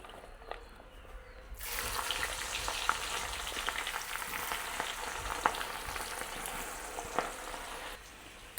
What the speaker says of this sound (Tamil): வெங்காயத்தையும் பொரிச்செடுப்போம்